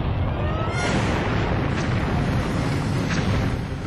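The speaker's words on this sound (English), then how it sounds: "The heat of the explosion is so intense it melts their windshields and tire rims." A satellite launch rocket explodes after a cracked booster fails, producing a loud, sustained, rumbling roar that fills the clip with dense, unbroken noise and no voices.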